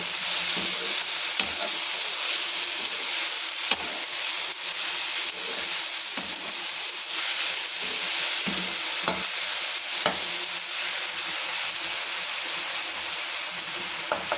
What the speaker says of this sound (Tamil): தக்காளி நல்லா மசிச்சு விட்ருங்க தக்காளி நல்லா வெந்து வரட்டும்